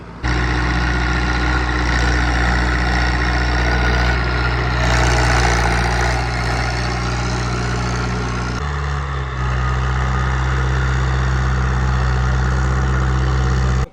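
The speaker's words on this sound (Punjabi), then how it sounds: "ਹਲੇ ਤੱਕ ਟਰੈਕਟਰ ਨੇ ਆਵਾਜ਼ ਨਹੀਂ ਬਦਲੀ ਗਈ" A heavy turbocharged diesel tractor engine, a 105-horsepower Swaraj 855, idles steadily and loudly throughout, a deep low rumble with a brief dip in pitch partway through.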